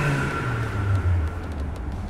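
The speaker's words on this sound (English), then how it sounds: "Had a little bit of noise on startup." A Mercedes AMG engine runs steadily up close with a low drone and a faint changing whine over the top, a slight noise present since startup.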